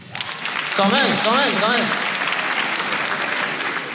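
Audience applause at a French stand-up comedy show, a dense wash of clapping throughout, with a voice briefly speaking over it near the start.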